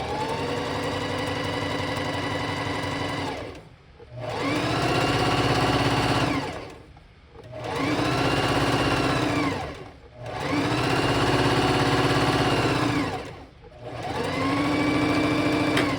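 Sewing machine stitching English paper piecing quilt blocks with sashing and cornerstones, running in four long steady bursts separated by brief pauses, close and fairly loud with no talking.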